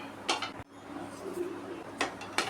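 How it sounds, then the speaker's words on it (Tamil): A lump of asafoetida dry-roasting in a pan while being stirred for idli podi, giving light metallic scrapes and ticks against the pan in a few brief, close bursts over a low background hiss. "பெருங்காயத்தை நல்லா வறுத்து எடுத்தாச்சு"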